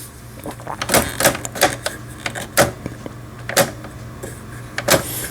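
A Toyota 152 sewing machine stitches in reverse with a run of sharp mechanical clicks and clatters in an uneven rhythm, close by over a low motor hum.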